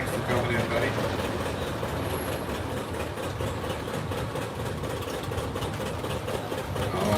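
A 1955 John Deere 80 tractor rolls past in an antique tractor parade, its engine a steady, continuous rumble that holds at an even, fairly close level throughout.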